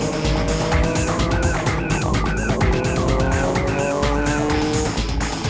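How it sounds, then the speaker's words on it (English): A Nismo Z race car in Xanavi livery runs in a 2004 JGTC race, its engine droning steadily with shifting tones and some tire noise, loud and close throughout. "Number 1 Xanavi Nismo Z is slowing down."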